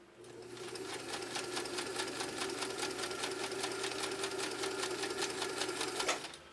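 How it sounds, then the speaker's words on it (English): Kenmore sewing machine with a 1 amp motor running steadily for several seconds, a fast even needle clatter over a low motor hum, close and fairly quiet, stopping near the end. "that seems like a really, really quiet machine. It's got a 1 amp motor, and yet it's really, really whisper quiet"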